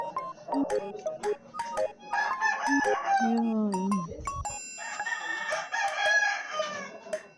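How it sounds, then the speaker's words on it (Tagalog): Roosters crowing from a roost up above in a rural vegetable patch where wild chayote grows, with a long crow rising over people talking nearby and other fowl calling around. "Ang daming manok sa taas"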